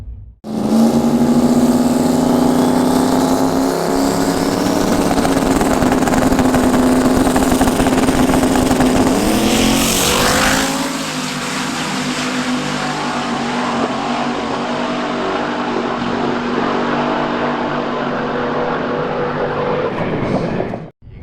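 A 5.3 LS-swapped Nissan 240SX race car engine roars loudly and steadily at a street car racing event, droning at a high pitch before the tone drops and fades somewhat toward the end.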